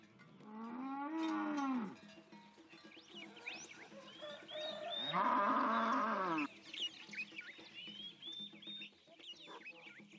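Cattle moo loudly and nearby in long, drawn-out calls on a farm, while chickens cluck and other birds chirp in the background; no one speaks.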